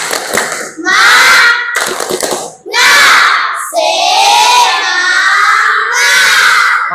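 A classroom of children doing the rhythmic 'tepuk semangat' clapping chant, bursts of group clapping alternating with loud shouted chanting voices, close and energetic.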